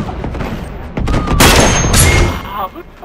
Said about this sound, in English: Who uses a cluster bomb on this mode?